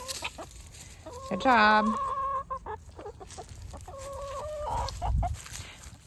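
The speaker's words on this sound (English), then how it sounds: "Gotta let the chickens out." Chickens being let out of their coop cluck loudly and close by in a short burst, then cluck again more softly later, with brief speech and background noise between.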